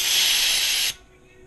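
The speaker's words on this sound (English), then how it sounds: "It won't hurt any electronics, so just spray away." A cleaning spray is sprayed onto electronics, giving a loud, steady aerosol hiss that runs for almost a second and then cuts off abruptly, leaving quiet room tone.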